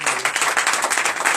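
A church congregation at a Sunday service in Benin claps in a brief, lively burst of close, rhythmic applause.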